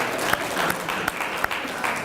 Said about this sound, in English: so that also deserves a round of applause